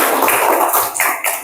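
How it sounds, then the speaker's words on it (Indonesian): A classroom group claps in brief, close, bright applause for a student group, lasting only a moment. "beri tepuk tangan untuk kelompok Sakti."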